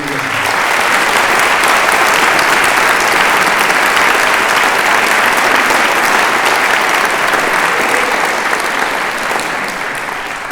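Loud, sustained audience applause for the organizers of a botanical conference, dense clapping from a large room that holds steady and only slightly thins toward the end.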